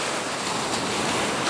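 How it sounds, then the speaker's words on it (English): Ocean surf washes onto a fishing beach as a loud, steady broadband rush of breaking waves, constant and close with no distinct crashes and no voices. "Good flat surf."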